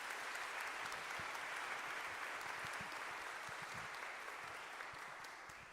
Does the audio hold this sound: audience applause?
yes